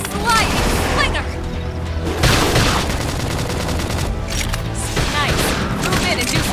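Rapid bursts of video game gunfire with booming shots and mechanical clatter, loud and continuous, layered under game voice lines and background sound effects.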